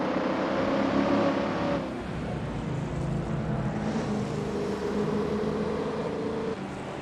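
Race cars in a racing simulator game roar with a sustained engine drone that shifts pitch as the cars accelerate and pass, steady and fairly loud.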